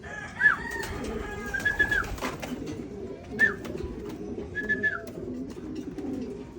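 Pigeons return during a free-fly recall, giving short cooing calls and wing flutters nearby while someone shouts and talks over them.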